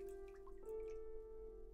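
Water drips steadily into a bucket in the video game Homesick, a soft repeating patter set against a sustained ambient tone, with no one speaking.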